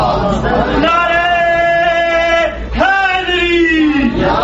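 At a Shia religious gathering in San Diego, a crowd shouts the Nara-e-Haidari slogan in unison with two long, loud, sustained chanted calls separated by a brief pause, the second call falling in pitch.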